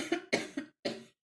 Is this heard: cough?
yes